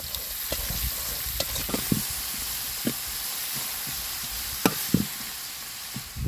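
Onion, green chilli and tomatoes fry in oil for an egg masala, a constant hiss of sizzling broken by repeated stirring scrapes and taps from a spoon in the pan.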